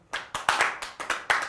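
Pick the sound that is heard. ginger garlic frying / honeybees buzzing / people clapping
people clapping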